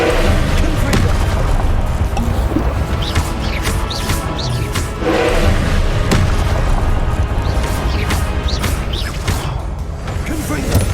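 Confringo explosive spell blasts in Hogwarts Legacy, loud booming impacts with crashing debris that recur several times over continuous game combat noise, with a voice speaking between blasts.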